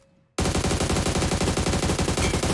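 Rapid automatic gunfire from PUBG Mobile during a solo-versus-squad match, a loud sustained burst of closely spaced shots starting abruptly after a quiet moment and running without a break.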